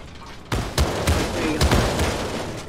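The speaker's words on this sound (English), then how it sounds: "He's shooting me down." Repeated gunshots in the video game Creative Destruction, several sharp broadband bursts at an uneven rhythm, fairly close and loud over a steady background.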